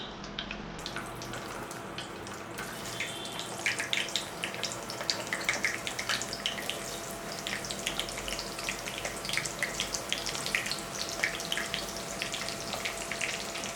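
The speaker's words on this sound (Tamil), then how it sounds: "முட்டை டோஸ்ட் பண்ணதுக்கு நம்ம வெங்காயத்தை பொரிச்சு எடுத்துக்கலாம்" Onions fry in hot oil for egg onion toast, a dense, continuous crackling sizzle heard up close at a steady level throughout, with no voices.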